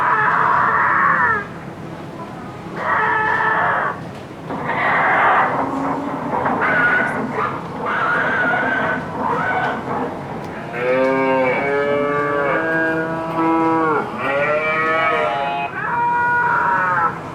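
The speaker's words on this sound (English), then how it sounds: "Listen to the sounds of baby pigs screaming for their lives in carbon dioxide gas chambers." A recording of baby pigs screaming inside carbon dioxide gas chambers plays loudly: repeated long, harsh, piercing squeals overlap in waves with brief gaps, and no talk is heard over them.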